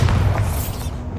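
A Bombarda explosion spell goes off in the Hogwarts Legacy video game, a short, loud, deep boom with a rumbling burst that fades within about a second.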